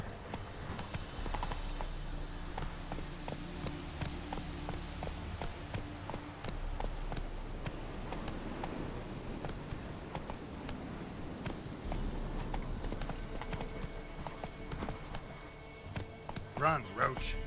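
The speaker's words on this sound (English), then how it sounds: "this is my issue with the horse riding on this game" Horse hooves clip-clopping steadily in The Witcher 3 on the next-gen ray tracing update, a rhythmic trot running under frequent player talk, with a brief louder burst near the end.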